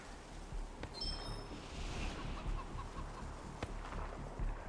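A chicken in a wasteland video game clucks in short, faint bursts against quiet ambient background noise, with no talking.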